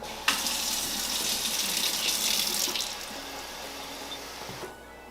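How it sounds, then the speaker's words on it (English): Hot water runs from a tap into a bottle, a steady close rushing stream that starts abruptly, stays loud for over four seconds with a slight pitch change as the bottle fills, then cuts off, with no talking. "I fill it up like that and then put the lid back on."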